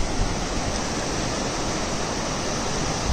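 Sea waves on a clean, quiet beach at Aare-Ware in Konkan, Ratnagiri, a dense continuous roar of surf that stays loud and even throughout with no voices.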